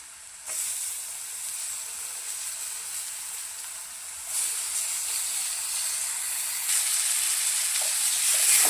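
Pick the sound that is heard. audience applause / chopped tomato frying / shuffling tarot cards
chopped tomato frying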